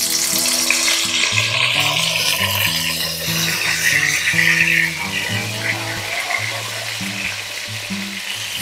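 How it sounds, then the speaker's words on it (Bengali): Eggplant pieces frying in hot oil over a medium flame, a loud continuous close sizzle and bubbling with a dense hiss throughout, no voices. "তেলটা ভালো মতো গরম হয়ে গেছে। এবারে ফ্লেমটাকে মিডিয়ামে করে দেব আর বেগুনটাকে দিয়ে দেব।"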